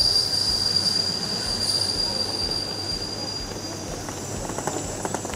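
A train's wheels squeal with a steady high-pitched whine as it moves through a station on a journey to Krakow, Poland, over rumbling rail noise.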